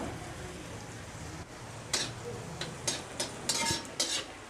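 Vegetables frying in a little oil with salt in a pan for mixed fried rice, a low steady sizzle broken by several sharp scrapes and clinks of a spatula stirring against the pan.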